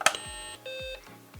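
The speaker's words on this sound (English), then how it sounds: "okay, now we're getting a beep" A BBC Model B Issue 7 computer under repair gives a startup beep, a steady high electronic tone lasting under a second amid faint clicks and background hum.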